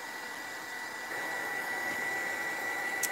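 Hair dryer blowing steadily on wet paint on an altered toy horse, a constant airy whoosh with a slight step up in level partway through, close and alone.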